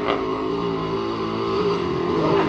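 A motorized 20-inch Caiçara bicycle's small engine runs steadily and loud up close, a continuous buzzing drone with a slight rise near the end, no talking over it.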